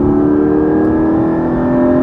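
A Porsche 718 Cayman GT4 engine revs high toward its 8,000 rpm redline in a loud, sustained mechanical howl that holds steady and close for about two seconds, with no talking.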